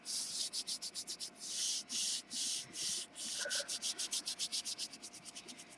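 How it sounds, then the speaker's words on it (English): Steady back-and-forth strokes of hand sanding rasp rhythmically, quick and regular, close to the microphone in an otherwise quiet room. "because I'm sanding."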